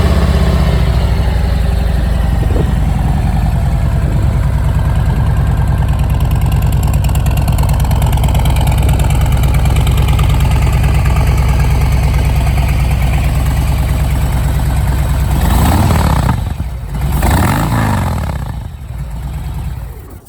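A 2018 Harley-Davidson Softail Low Rider with low miles sits idling, its exhaust giving a loud, steady, close lumpy rumble before a couple of quick throttle blips near the end.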